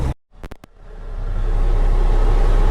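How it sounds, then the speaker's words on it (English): A truck with a lowboy trailer pulls away after the clutch is let out, its engine rising from a brief pause into a loud, steady rumble close by with no voices. "backup lamps off, brakes released, truck in gear, let out the clutch"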